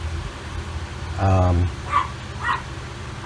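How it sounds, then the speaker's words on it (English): A pet dog giving a short whiny bark or yip around dinner time, one vocalisation in the middle followed by a couple of softer yelps, close by over a low background hum. "So Doggy's giving me a snooze alert that it's dinner time."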